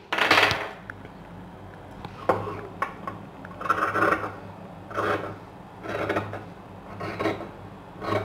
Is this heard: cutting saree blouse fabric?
yes